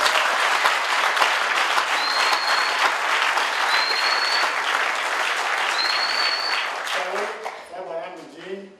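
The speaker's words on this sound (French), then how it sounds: "on peut l'applaudir." Loud congregation applause fills a church for several seconds, dense clapping with a few whistles, then fades as a voice begins speaking near the end.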